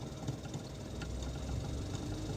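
Engine of a manual Toyota Agya / Daihatsu Ayla humming as gas is applied with the clutch, a steady, low, close drone without talk.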